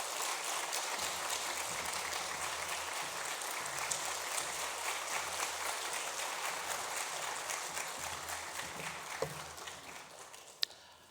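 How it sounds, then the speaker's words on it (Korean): Church congregation at a Sunday evening service applauding to welcome a visiting pastor, a steady, fairly distant wash of clapping that holds evenly and fades slightly near the end. "우리 큰 박수로 이경희 목사님 환영하겠습니다"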